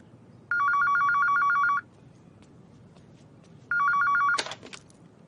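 A telephone ringing during a call, heard as two bursts of bright trilling electronic rings separated by a pause, the second cut off by a short clatter.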